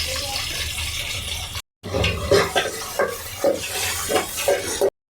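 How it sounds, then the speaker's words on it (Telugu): A spoon scrapes and clinks rhythmically in a pan as sliced onions with a pinch of salt are stirred for a home-cooked chicken dish, with repeated close strokes and a short break near the start. "ఆనియన్స్ వేసుకొని మంచిగా కలబెట్టుకోవాలి ఇట్లా."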